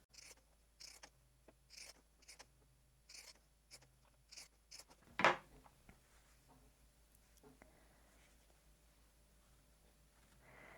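Pinking shears cutting fabric for a quilt block: a series of about a dozen short, crisp snips in a steady rhythm, close and dry, with one louder sharp clack partway through and quieter handling sounds after.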